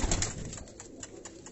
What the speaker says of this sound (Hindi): इसमें कुछ कबूतर जो है टेडी और रामपुरी क्रॉस भी है